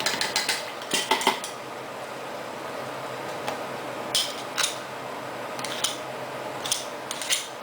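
Metal spoons shaping a chorizo and goat cheese croquette mixture, scattered light scrapes and clinks in small bursts over a quiet kitchen background.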